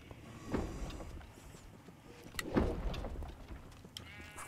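A pet sheep in the video game Minecraft Dungeons bleats twice, about two seconds apart, each call short and clear over faint game ambience.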